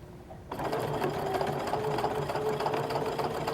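After a quiet half second, a sewing machine starts up and runs a steady straight stitch through knit fabric. The even, close mechanical hum continues without pause.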